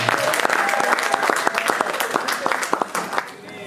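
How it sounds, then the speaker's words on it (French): A church congregation applauds loudly at a worship service, with dense, sustained clapping and sharp individual claps close by, and voices mixed in; the applause thins slightly near the end. "Acclamons très fort, que Dieu vous bénisse."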